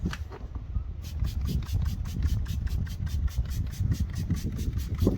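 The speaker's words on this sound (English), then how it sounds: "So let's apply the wheel cleaner." Gyeon Q2M Iron wheel cleaner is sprayed onto a car's cool wheels in a rapid run of short, evenly spaced trigger-spray hisses over a low, steady rumble.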